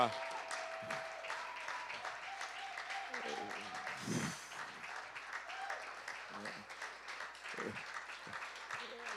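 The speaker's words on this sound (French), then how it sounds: "Vous n'avez pas fini d'applaudir." Applause from a church congregation in a reverberant hall, steady clapping lasting several seconds, with voices mixed in underneath.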